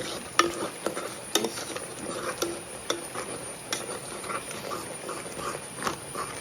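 Ragi flour is stirred into an onion lehyam in a pan, giving a quiet sizzle punctuated by repeated light scrapes and taps of a spoon at an irregular pace, with a faint steady high hum in the background.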